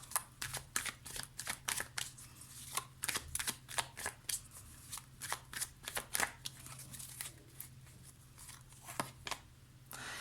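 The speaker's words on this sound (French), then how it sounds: "on va prendre 2 cartes du tarot de la magie verte" Tarot cards from a green magic deck being shuffled and drawn, giving quick crisp riffles and snaps in irregular bursts, close but quiet, with no talking.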